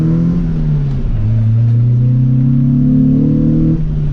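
A car engine revs and accelerates steadily, its low drone climbing in pitch and holding loud and close for several seconds.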